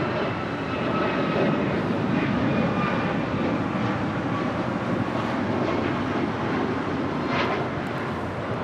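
Avianca airliner in Surf City El Salvador livery arriving at Los Angeles International Airport from San Salvador, a steady broad jet roar with wind rumble holding at constant loudness throughout.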